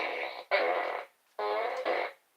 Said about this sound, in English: That's why I keep my fart gun.